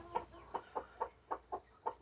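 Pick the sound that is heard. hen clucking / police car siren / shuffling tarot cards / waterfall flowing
hen clucking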